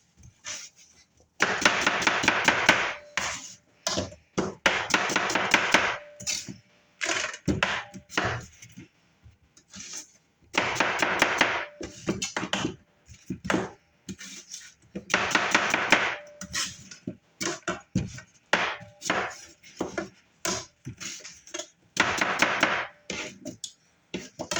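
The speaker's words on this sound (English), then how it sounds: "We're going to go ahead and slice the rest of them up." A knife slices onions into thick pieces on a cutting board for French onion soup, giving bursts of rapid, close chopping taps with short pauses between runs of strokes, and no voice.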